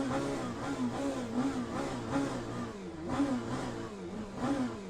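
A race car engine in the sim racing game Le Mans Ultimate drones steadily, its pitch rising and falling in repeated surges as it revs through gears, loud and continuous with no talk.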